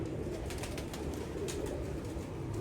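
Pigeons kept in a coop coo softly and continuously beneath a dense, steady background murmur, with faint repeated calls and no clear voices.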